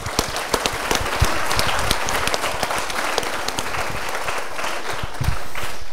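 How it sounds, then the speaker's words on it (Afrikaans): Audience applause for a senior athlete at a South African sports show, steady, full clapping throughout with sharp individual claps standing out. "Kom ons gee vir Lisa Marie 'n lekker hande klap."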